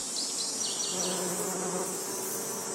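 Bees buzz steadily among flowering olive trees in an olive grove, a dense continuous insect drone with several nearer individual bees passing by, fairly loud with no talk.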